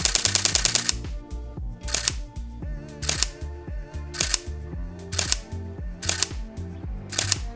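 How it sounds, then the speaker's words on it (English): A Canon M50 camera fires its shutter in continuous shooting, rapid bursts of close mechanical clicks arriving in repeated clusters separated by short gaps, with no voices. "you can tell the difference just by listening to the shutter of the Canon M50."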